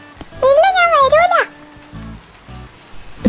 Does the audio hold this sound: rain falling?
yes